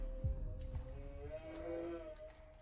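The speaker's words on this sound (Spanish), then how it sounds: "Eso suena como una cabra" Goat-like bleating from a creature in a realistic horror video game, a wavering tonal call rising and falling over a low rumbling background, moderately loud and alone.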